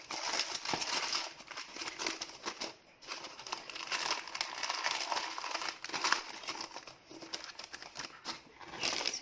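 Baking paper crinkling and rustling close by as it is crumpled and put away after whole wheat bread dough goes into its tin, a steady busy crackle lasting throughout with no talking.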